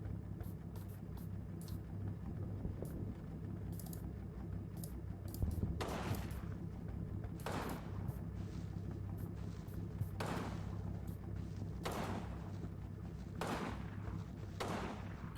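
In the World War II game Combat Mission Battle for Normandy, where an MG42 machine gun is firing, gunfire is traded in a series of distant, sharp bursts spaced a few seconds apart over a constant low rumble.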